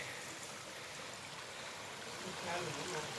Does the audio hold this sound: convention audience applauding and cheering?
no